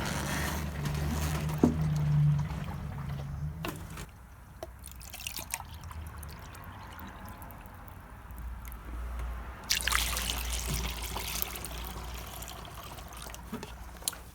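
Coolant and distilled water trickling and dripping into a jug as a 50-50 mix is made, a steady liquid dribble with brief pours near the start and again toward the end, close and moderately quiet.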